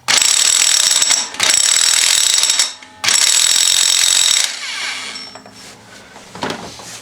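A ratchet clicks steadily in quick bursts while being turned clockwise to tighten a bolt on a Polaris Trail Boss 350L/400L ATV water pump, loud and close, with short pauses between strokes and a quieter rattle at the end.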